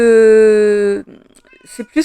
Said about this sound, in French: C'est mon chat, il est juste derrière l'ordinateur.